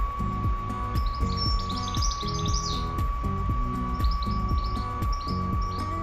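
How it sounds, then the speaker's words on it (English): A BioLite CampStove 2 wood-burning camp stove's fan runs as a steady, even whir with a constant tone, while birds chirp intermittently in the background. "You can hear the fan going off."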